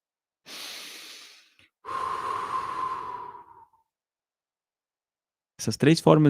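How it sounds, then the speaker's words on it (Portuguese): Forceful exhaled breaths blown out in a Nada Yoga breathing practice: two long airy blows of a few seconds each separated by a short pause, close and clear, followed by a brief bit of speech. "A segunda forma de fôlego é o sopro."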